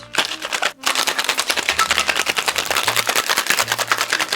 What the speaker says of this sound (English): We're gonna add our ice to our cheater tin. Shake it pretty aggressively because you have a bunch of muddled stuff.